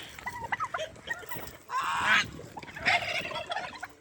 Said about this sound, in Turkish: İşte kazlarımız burada.